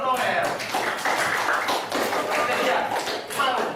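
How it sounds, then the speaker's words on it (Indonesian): A class of students claps for a classmate, a dense patter of many hands that keeps going with small swells, recorded up close in the classroom. "tepuk tangan untuk Noel"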